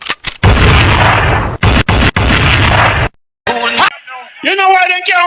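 At a sound clash event, loud bursts of gunshot sound effects fire in a rapid volley, breaking into separate cracks and then falling silent. A voice then speaks over music.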